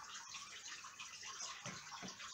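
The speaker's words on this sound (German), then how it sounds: "da kommt jetzt ein bisschen weniger Wasser" Water pouring and splashing during an aquarium water change, a faint, steady gushing flow with a few louder splashes near the end, no talk.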